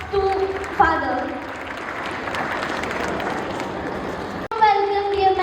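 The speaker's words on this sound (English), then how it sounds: "Please give a huge round of applause to Father." Audience applause at a school science exhibition ceremony at St. Joseph's Public School, Kasganj: a sustained, dense burst of clapping from a sizable crowd that swells and holds for several seconds, with an announcer's amplified voice before and after.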